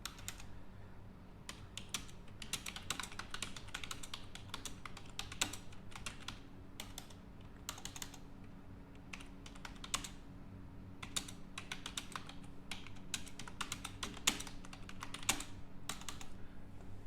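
Steady, brisk typing on a computer keyboard while a LibreOffice document is set up, with close, crisp key clicks in uneven bursts running throughout and no voices.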